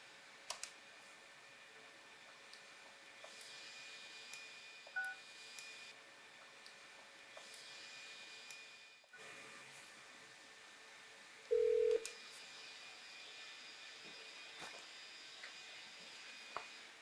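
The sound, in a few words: telephone being dialed and ringing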